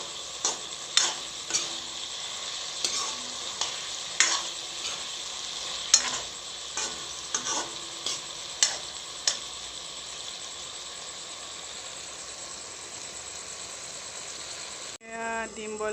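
Taro (kochu) stir-fries in a pan with a steady faint sizzle, while a utensil scrapes and stirs in regular sharp clicks every second or so before the sound stops.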